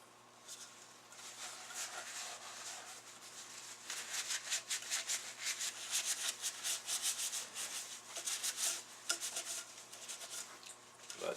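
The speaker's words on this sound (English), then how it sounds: "It's not fun handling a dirty rotor." Cleaning towels wipe a dirty Leslie speaker rotor in a workshop, making repeated rhythmic rubbing and scrubbing strokes that start quiet and grow louder and faster in the second half, close up with no voices.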